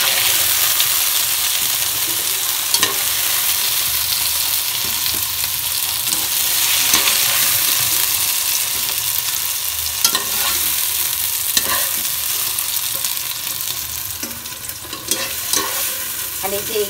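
Eggplant and potato pieces fry in hot oil, a loud, continuous sizzle close by with occasional sharp clinks and scrapes from stirring scattered through, no talking.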